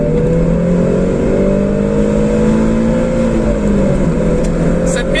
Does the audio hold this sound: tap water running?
no